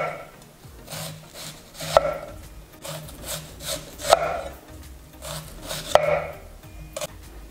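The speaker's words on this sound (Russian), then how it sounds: "Я взял белый лук. И нарезаем тонкими-тонкими колечками." A knife slices steadily through white onion into thin rings on a cutting board, with soft repeated cuts and a few sharper taps against the board, close up.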